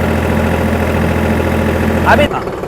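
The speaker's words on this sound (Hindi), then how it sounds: "इंजन आरपीएम 1840 रख रहा हूँ और पीटीओ में पीछे आपको 540 मिल रहे हैं।" Tractor engine held at 1840 rpm driving the rear PTO at 540 rpm: a loud, steady close-up drone that runs continuously and then drops away abruptly near the end.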